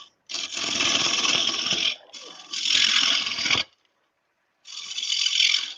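A chisel cuts a groove into a wooden bowl spinning on a lathe, giving a harsh, hissing scrape in three sustained bursts separated by short pauses, close and fairly loud with no talking.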